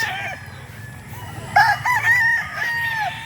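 On a farm, a rooster crows loudly and close in a couple of drawn-out calls, with other chickens clucking underneath.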